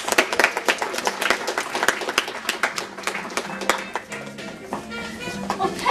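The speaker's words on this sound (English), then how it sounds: "please give a warm round of applause" Audience applause at a stage performance: a dense burst of clapping from a small crowd, fairly close and lively, with faint voices mixed underneath.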